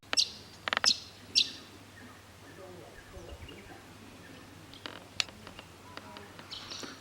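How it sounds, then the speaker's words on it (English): Several bright, sharp bird chirps outdoors in Bundaberg, Queensland, a cluster early on and more scattered calls later, over a low steady hum and soft background noise. "Aren't the birds chirping beautifully?"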